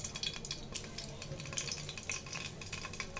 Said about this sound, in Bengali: তেলটা গরম হয়ে গেছে, এখন আমি বড়াগুলো ভেজে নিব